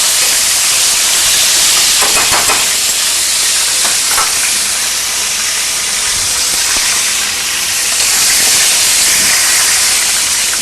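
Langoustines sizzle loudly in hot oil in a pan, a continuous close crackling hiss with bursts of spattering and occasional stirring, no voices.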